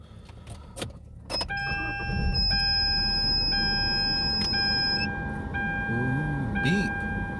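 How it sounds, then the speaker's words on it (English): A loud electronic beep tone rings out on a Bakersfield street, sustained for several seconds with steady harmonics over traffic and street noise, starting shortly after a brief rustle. "Loud beep."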